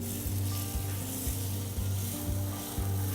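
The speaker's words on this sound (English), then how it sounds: "We're gonna drop our steaks on just so we hear that nice sizzle" Steady, loud sizzling of rib eye steaks searing in a hot oiled pan, a continuous crackling hiss with a low hum pulsing underneath.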